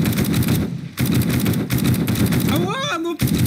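Rapid gunfire in 7 Days to Die rattles out in quick automatic bursts, close and loud, with a short break and a rising game tone near the end.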